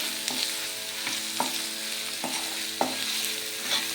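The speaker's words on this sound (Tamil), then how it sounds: "இதையும் அந்த வெங்காயம், வரமிளகாய், இஞ்சி பூண்டு விழுதோடு நல்லா சேர்த்து வதக்கி விட்டுடலாம்" Onion, dried red chillies and ginger-garlic paste sautéed in a pan for a chicken fry, a constant sizzle broken by regular scraping strokes of a spatula, close up with no talking.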